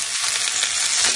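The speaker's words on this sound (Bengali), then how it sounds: "একদম তেলের উপর ছেঁকে ভাজবো না ডাঁটাগুলো, অল্প একটু ভেজে নেব।" Vegetable stalks fry in a little oil in a wok, giving a short, even sizzling hiss that stays close and steady from start to finish.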